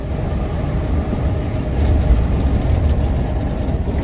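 A Harapan Jaya VIP class bus cruises on a toll road at 90 km/h, heard from inside as a loud, steady low engine drone and road rumble without any pauses.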